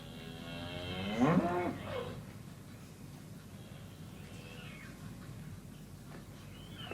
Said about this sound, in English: Oh, and there's some cows.